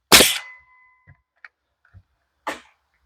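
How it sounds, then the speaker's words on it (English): Acorns falling outdoors near a sawmill equipment shed strike with a sharp, loud crack, then a few faint ticks follow and a second distinct knock lands about two seconds later, with quiet pauses between. "If you hear anything bombing in the background, it's acorns falling."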